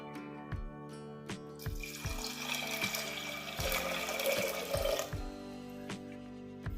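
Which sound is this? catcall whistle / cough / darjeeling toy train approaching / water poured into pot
water poured into pot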